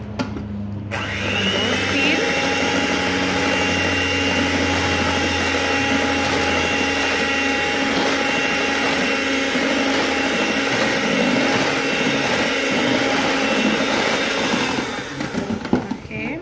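Electric mixer beating cake batter with eggs, a loud steady whirring motor hum that runs continuously for about fifteen seconds before winding down.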